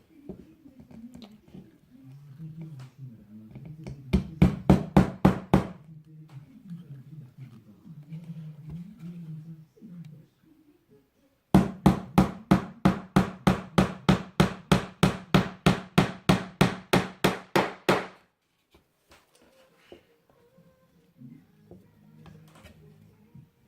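Nails are hammered into a wooden plank while building a storage box: two tight bursts of rapid, close metallic blows, one short and one longer, with quiet handling noise and low murmuring between them.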